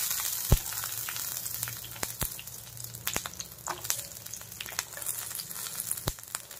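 Cashews, coconut and garlic frying in mustard oil in a pan, a steady soft sizzle with scattered crackles and sharp pops throughout, fairly quiet with no voices.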